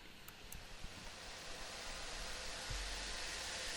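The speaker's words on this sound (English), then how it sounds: "This like steam engine." Synthesized steam-like hiss used as an atmospheric layer in an electronic music mix, a faint, steady broadband whoosh that continues without a break, alone and with no speech.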